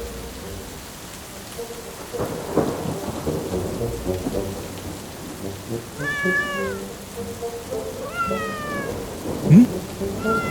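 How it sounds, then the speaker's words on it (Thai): Steady rain hisses with low thunder rumbling, and a kitten's meows rise clearly above the storm near the end. "ฝนจะมาแล้วนะครับ"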